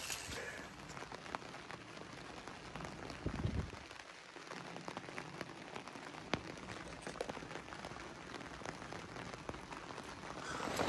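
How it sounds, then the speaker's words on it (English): Steady rain patters on the fabric of a large hot tent in a campsite, a dense continuous hiss of drops with brief louder spatters, heard up close with no talking. "It is raining. I love this sound."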